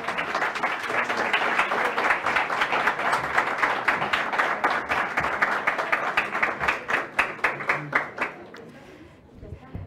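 Audience applause at a national forum on human trafficking in Costa Rica, a dense sustained clapping that fills most of the clip, then breaks into individual claps and fades near the end.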